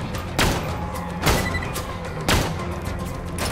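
Three sniper rifle shots in the video game Borderlands 2, each a loud, sharp booming crack spaced about a second apart over steady background noise.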